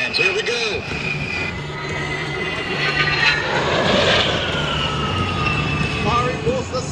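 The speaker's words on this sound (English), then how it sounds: "I'm going to show you exactly how they fly those A-10s." An A-10 Warthog jet flies past at an airshow, a loud continuous engine roar that swells and holds throughout, with a faint siren-like whine mixed in.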